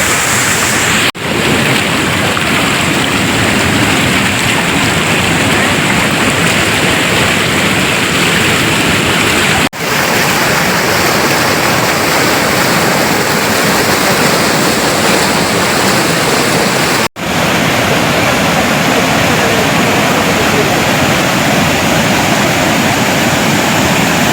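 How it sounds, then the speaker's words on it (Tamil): A waterfall at the Arapaleeswarar temple in the Kolli Hills roars loud and steady with dense rushing water, constant throughout with no voices. "அருவியை பார்த்துருப்பீங்க"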